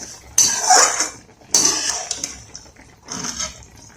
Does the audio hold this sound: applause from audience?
no